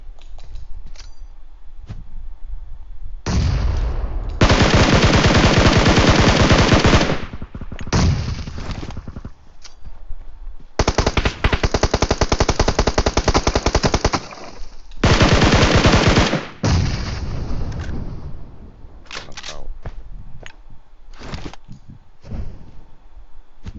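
Heavy automatic gunfire in the mobile battle royale game PUBG Mobile, played on an iPad: long loud sustained bursts alternating with single sharp shots and short pauses, close and dominant throughout.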